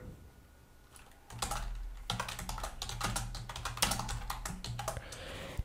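Typing on a computer keyboard, a quiet run of crisp key clicks and clacks in irregular bursts, close and alone, with a faint low hum underneath.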